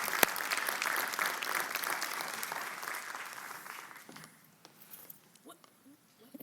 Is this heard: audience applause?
yes